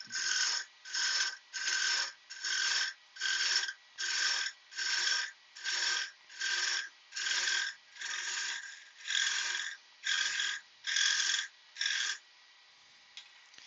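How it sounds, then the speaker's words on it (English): A wooden salt and pepper box is beveled with a rasp or file: about fifteen steady, rhythmic rasping strokes, each about half a second long, close and clear with no talking. "so I'm going to bevel it towards the bottom"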